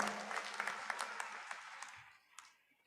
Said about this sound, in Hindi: जोरदार ताली बजा के बहन जी का स्वागत करो। इधर से भी तालियां बजाओ